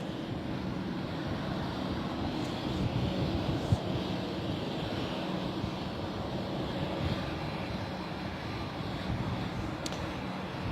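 Aircraft engine rumble at London City Airport, a sustained broadband roar mixed with wind buffeting on the microphone, steady and moderately distant with no speech.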